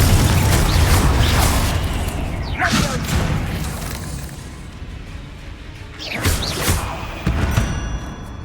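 Confringo explosive spell in the video game Hogwarts Legacy: a loud booming burst at the start that decays into a rumbling tail, then a second crashing blast with whooshes about six seconds in.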